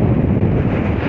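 Strong wind at a beach buffets the microphone in a loud, continuous low rumble and roar, with no voices.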